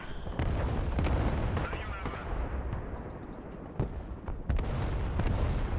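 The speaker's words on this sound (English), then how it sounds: "I think you're getting hit by artillery" Artillery fire in the war video game Broken Arrow: a rolling barrage of booming blasts and crackling impacts, dense and continuous with sharper hits near the end.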